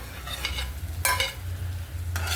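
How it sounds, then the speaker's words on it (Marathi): Green chillies fry with onions in a pan, a low sizzle under three short bursts of scraping as the mixture is stirred, close and brief, with no voices. "आता आपण त्याच्यामध्ये मिरच्या पण टाकूया."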